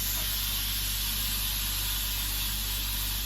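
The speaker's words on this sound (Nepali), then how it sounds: "बाफ लिएको जस्तो गर्छ सुन्दा पनि" Steam vapor hisses in a loud, unbroken rush, a steady broadband spray sound with a low hum beneath it, constant throughout and close up with no talking.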